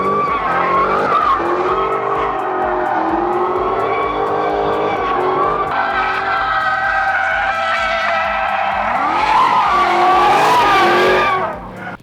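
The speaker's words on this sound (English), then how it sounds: "I have a Dodge Challenger Hellcat Redeye with the wide body option, and I'm going to take it on track" A supercharged Dodge Challenger SRT Hellcat Redeye widebody, 797 horsepower, roars loudly and continuously around a race track, with engine revving and gear changes and tires squealing through corners, surging louder near the end.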